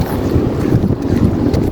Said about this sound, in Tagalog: pertigong kusuga sa hangin